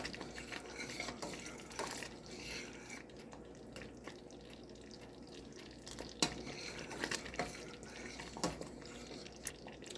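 Ham drippings mixture stirred in a pot with a utensil, giving soft, irregular scraping and clinking against the pot, quiet and close, with faint watery drips and no talk.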